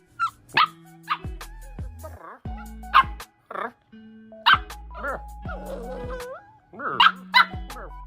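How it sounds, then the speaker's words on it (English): Two dogs at home bark and yip in short, loud bursts spread through the stretch, with occasional whimpers between them and people talking nearby. "You know, we got 2 dogs now."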